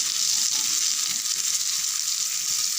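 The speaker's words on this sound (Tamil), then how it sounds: "ரொம்பவும் வேகணுன்றதில் பாதி அளவுக்கு மீன் பொரிச்சா போதும்" Sankara fish fries in hot oil with a steady, dense sizzle and crackle, close and continuous, with no talking.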